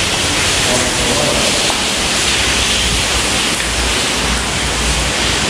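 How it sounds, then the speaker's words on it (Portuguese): Steady broadband rush of a waterfall seen during a walk near an abandoned hospital in Cambé, Londrina, Paraná, Brazil, loud and continuous throughout with no clear pauses. "Uma cachoeira."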